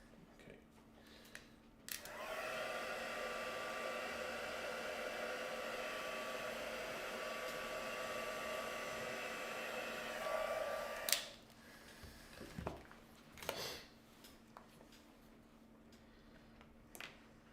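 A hair dryer runs close by to dry craft work, a steady whining hum lasting about nine seconds before it switches off. Quiet handling knocks and taps follow.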